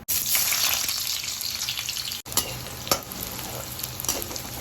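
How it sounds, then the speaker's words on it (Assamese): Onions frying in a little sweet oil in a pan, a steady broadband sizzle with occasional stirring scrapes and a brief break midway, close and loud with no talk. "প্ৰথমে মিঠা তেল অকণমান এই পিঁয়াজখিনি ফ্ৰাই কৰিবৰ কাৰণে"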